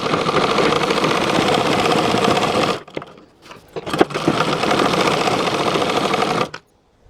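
An electric sewing machine stitches a blouse in a fast, loud, continuous whirr that stops briefly partway, gives a few clicks, then runs again before cutting off.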